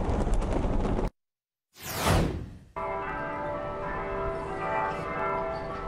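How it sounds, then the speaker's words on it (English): After a silent gap and a sweeping whoosh, a large bell at UMass Dartmouth rings during a remembrance ceremony on campus, its sustained tones lingering and humming steadily. "Bells toll at UMass Dartmouth following a moment of silence observed on campus"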